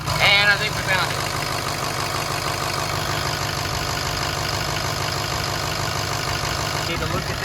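Truck engine idling in a shop while an oil leak is checked, a steady mid-to-low rumble running continuously close by, with brief clatter at the start.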